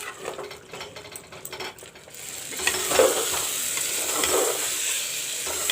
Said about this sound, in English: Let the masala fry.